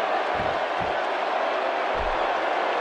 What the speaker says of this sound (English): This crowd is amped up and ready to go.